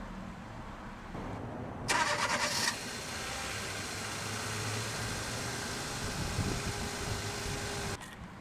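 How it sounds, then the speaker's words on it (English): A 2014 Kia Soul's engine cranks briefly, then catches and settles into a steady, low idle hum, heard close from inside the vehicle. "let's go ahead and start the engine"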